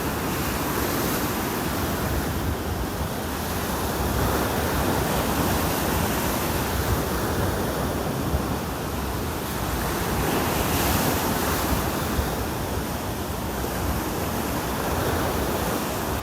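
Ocean surf rolls onto a beach in North Naples, Florida, a steady loud wash of breaking waves with wind buffeting the microphone and sea spray in the air, with no voices.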